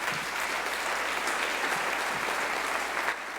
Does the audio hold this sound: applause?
yes